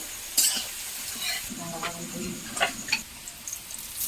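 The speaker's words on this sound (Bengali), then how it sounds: "আলু ভাজা প্রায় হয়ে গেছে লাল মতন হয়ে এসেছে" Potatoes frying in a wok (kadai) while being stirred, for homemade chowmein: a steady oily sizzle with repeated scraping stir strokes and clinks of a metal spatula, close and fairly loud, with no talking.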